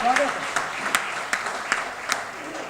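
An audience at a Hindi comedy poetry recital claps steadily throughout, a warm wash of applause from a crowd with a few sharper claps standing out.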